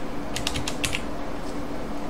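Rapid clicking of keys on a computer keyboard, a short burst of several keystrokes close by, then quiet room tone.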